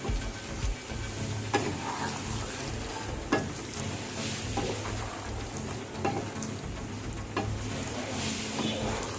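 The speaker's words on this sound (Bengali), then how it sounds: "এবার ভালো করে নেড়ে চেড়ে নেব।" Chilli chicken fries in a pan while being stirred, a soft continuous sizzle broken by occasional sharp utensil taps and scrapes against the pan.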